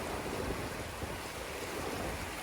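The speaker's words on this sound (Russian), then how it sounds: "Кристально чистая вода, быстрая, шумная и очень холодная." A fast, noisy mountain river rushes over stones in the Swiss Alps, a steady broadband roar of churning water heard close up and continuous throughout, with no voices.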